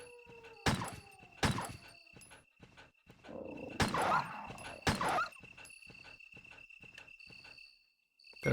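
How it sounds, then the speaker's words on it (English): In the Resident Evil video game, a dog lets out several sharp barks and whimpering, growling bursts at separate moments, over a constant backdrop of chirping crickets. "There's one more dog, it sounds like."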